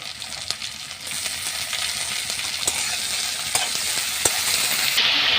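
Grated ginger and garlic fry in a pan with a steady sizzle, while a spoon stirs and knocks against the metal several times.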